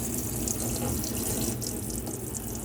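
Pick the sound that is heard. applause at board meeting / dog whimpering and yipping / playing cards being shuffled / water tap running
water tap running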